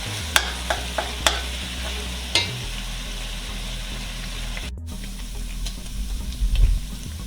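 Ground meat for a beef lasagne cooks in a pan, with a steady sizzle under several sharp scrapes and clanks of a spoon stirring, a little louder toward the end; no one speaks.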